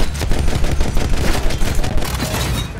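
A machine gun rattles in rapid continuous bursts during a World War One shooter battle, loud and close with dense overlapping reports and heavy low rumble throughout.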